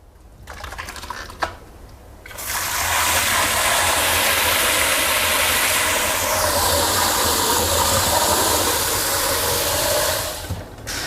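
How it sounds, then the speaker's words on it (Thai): Soaked sago pearls are rinsed under running water, a steady loud rush of the stream that starts after a couple of seconds of quieter handling and runs almost to the end. "นำมาล้างเอาเมือกออกได้เลย"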